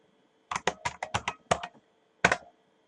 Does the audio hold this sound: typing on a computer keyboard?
yes